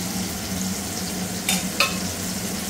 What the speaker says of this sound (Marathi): त्याचा हा भुरा करून घेतला आहे आणि त्याच्यामध्ये फ्राय करते